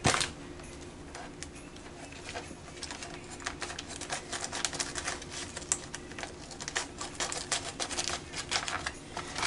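Scissors snip repeatedly through a plastic bag being cut off a roll, a quick run of crisp, close clicks and rustles with no talking.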